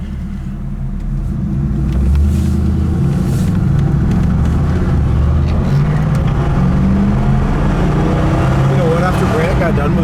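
A 1981 Pontiac Trans Am with a 301 engine cruises at highway speed, its engine and road noise a loud, steady drone from inside the car while someone talks over it.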